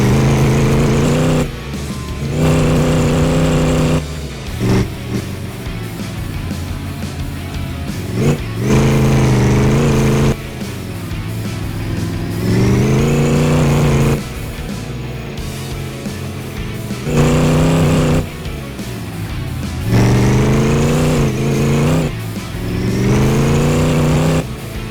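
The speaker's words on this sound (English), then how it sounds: "The Firekart is definitely fun to drive." A 1987 Firekart rally car in the My Garage video game, its engine revving up and easing off in repeated loud surges while driving, with the exhaust note climbing and falling throughout and no talking.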